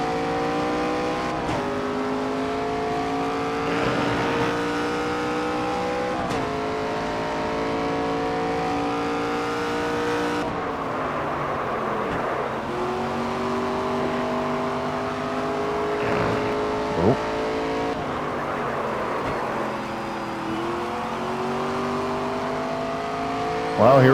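Race car engines roar continuously in a NASCAR 25 video game race, loud sustained harmonic engine tones rising and falling through gear shifts and revs, with brief tire squeals and passing cars, no talk over it.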